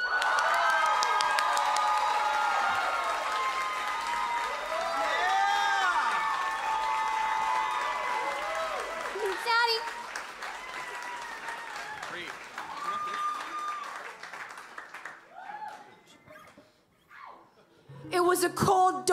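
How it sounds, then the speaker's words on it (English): An audience in a small live-music venue applauds and cheers as a singer is welcomed to the stage, loud clapping fading over several seconds, with voices and a brief burst of noise near the end. "Everyone, please give a warm round of applause"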